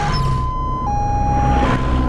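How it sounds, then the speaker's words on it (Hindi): An ambulance siren wails with a sustained high tone that shifts pitch partway through, heard over a rumbling background with no talking. "एम्बुलेंस भी आ गई।"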